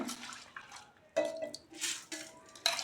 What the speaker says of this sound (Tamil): இப்போ நம்ம ஊற வச்சுருக்கிற அரிசியும் பருப்பையும் குக்கரில் சேர்த்துக்கலாம்.